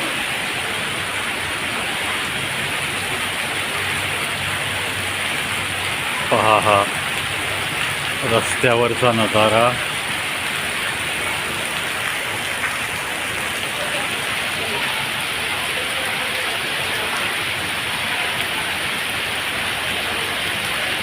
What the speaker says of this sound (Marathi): धुवाधार पाऊस